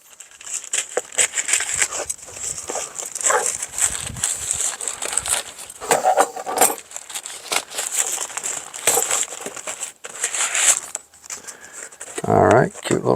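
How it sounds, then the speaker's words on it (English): Scissors snip through the plastic packaging of a mailed car part, giving crinkly rustling and crackling under continuous talking throughout. "Pair of scissors to get through the plastic."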